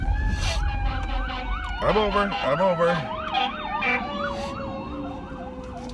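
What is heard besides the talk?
fire truck siren passing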